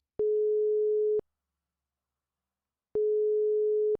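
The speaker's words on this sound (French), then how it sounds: "Elle téléphone au prochain électricien." Outgoing telephone call ringing tone: two steady, clean beeps about a second long with a pause of nearly two seconds between them, quiet and alone without voices.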